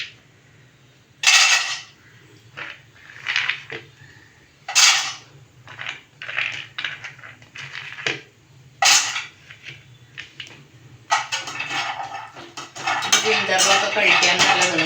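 Almonds clatter and rattle into a warming pan and are stirred about, bursts of hard scraping and tumbling separated by brief quiet, close and fairly loud, while making a nutritious ladoo.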